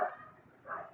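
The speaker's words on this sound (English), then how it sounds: "that's the dog, neighborhood dogs that which are barking." Neighborhood dogs bark in the distance, two faint short barks separated by a brief pause.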